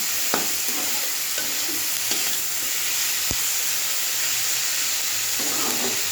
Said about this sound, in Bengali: পেঁয়াজ আলু ভাজাটা রাখছি